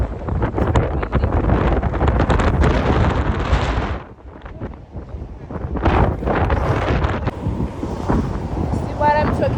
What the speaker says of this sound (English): So guys, it's very windy, yeah. It's very windy.